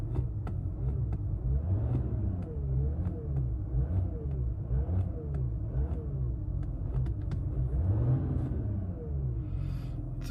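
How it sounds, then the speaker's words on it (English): A Volkswagen Touareg TDI diesel engine revs repeatedly, a deep rumbling with regular rises and falls over about ten seconds, heard close with no talking. "I'll rev up the engine for you."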